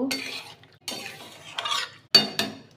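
Mutton being stirred in a pan for mutton kosha, a utensil scraping and clinking against the metal in several separate bursts, close and fairly loud with short pauses between strokes, no talking.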